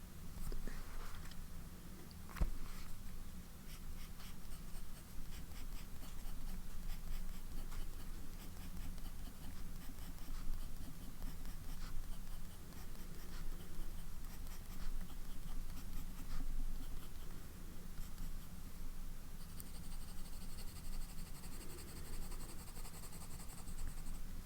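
A broad-nib fountain pen scratches steadily across paper, a close, continuous dry writing sound of strokes and small pauses with no talking.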